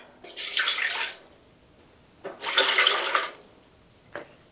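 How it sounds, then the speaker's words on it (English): Water is poured into a countertop roaster insert before a Thanksgiving turkey goes in, two splashing pours of about a second each separated by a pause, close and clear, with a final short trickle and no talk. "So I have the countertop roaster insert right here. I'm going to add some water."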